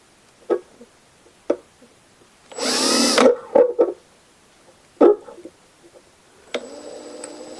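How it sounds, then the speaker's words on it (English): Power drill boring a hole in a 1998 Chevy Tracker, one loud whining burst of a couple of seconds amid scattered sharp clanks and taps, with a brief high tone near the end. "So let's drill a hole,"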